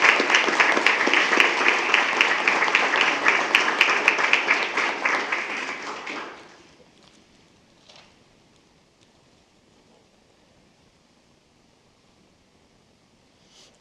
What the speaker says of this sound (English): So, another round of applause for these amazing athletes.